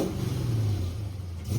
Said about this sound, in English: that is an exhaust leak from our freshly made Y pipe